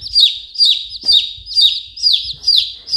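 A chick chirps loudly and repeatedly, about two high peeping calls per second in a steady rhythm, close by with faint low thumps underneath.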